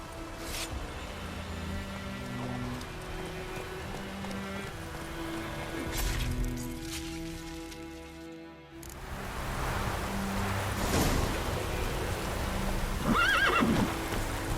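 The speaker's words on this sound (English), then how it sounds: "I'll ready our horses." Horses whinny and hooves clip-clop over a steady wash of rain-like noise and music in the video game The Witcher 3: Wild Hunt, with a sharp neigh standing out near the end.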